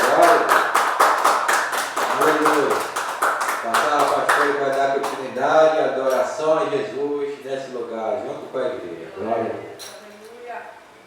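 A worship congregation claps hands in a quick, sharp rhythmic run of claps that gradually gives way to singing voices, with a few scattered claps continuing beneath the voices.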